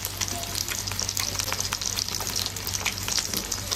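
Steak sizzles steadily in a hot pan, a dense, close, continuous frying hiss with small crackles throughout and no talking.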